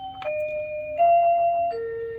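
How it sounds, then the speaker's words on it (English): An automatic doorbell chime plays a short sequence of sustained electronic tones, clear and moderately loud, with no talking. "the automatic doorbell is telling me that my wife is leaving"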